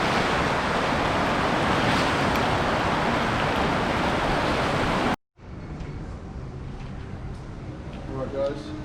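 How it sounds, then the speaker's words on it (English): Steady rain falling outdoors at a home garage during a Ford 351 Cleveland engine and Toploader gearbox fit-up in an XE Phase 6, a dense hiss filling the first five seconds, then a sudden cut to quieter ambience with faint voice sounds. "It's kind of raining a bit"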